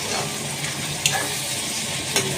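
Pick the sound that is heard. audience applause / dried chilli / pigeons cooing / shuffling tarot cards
dried chilli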